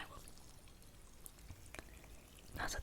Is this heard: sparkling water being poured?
yes